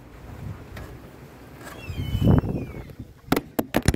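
Wind gusting outdoors around a yard with a grill, a low rushing roar that builds and buffets the microphone, followed by a few sharp clacks near the end.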